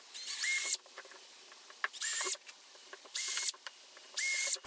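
A power drill bores holes in a mounting plate for a Harley TourPak, with four short, loud, high-pitched whirring bursts separated by quiet pauses and faint handling clicks.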